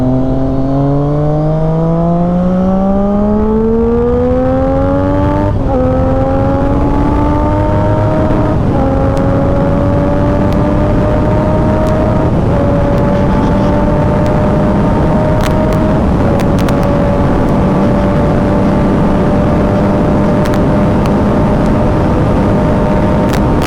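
Motorcycle engine, a Kawasaki Z650 or Yamaha R25 on a highway ride, revving up in strong rising sweeps with brief gear-shift dips, then holding a loud steady drone under constant wind roar.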